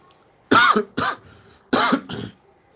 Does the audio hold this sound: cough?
yes